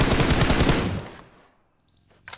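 Gunfire in a battle royale game, a rapid automatic burst of close shots lasting about a second, then fading into near silence before a brief faint click or shot at the end.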